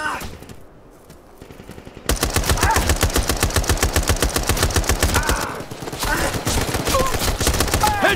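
Rapid automatic gunfire from the Brothers in Arms 3 shooter, with dense, loud bursts of shots that run almost continuously after a quieter opening stretch.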